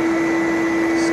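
A Bissell Big Green carpet cleaner runs with a loud, steady motor whine and airy suction roar, constant and close for the whole moment with no talking.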